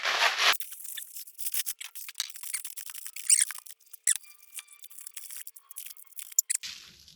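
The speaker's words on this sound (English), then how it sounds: "let me try and carefully cut these out of here" Scissors or a blade snipping and scraping through foam packing material inside a shipping box, with a run of short, close squeaks and rubs in an irregular rhythm and no talking.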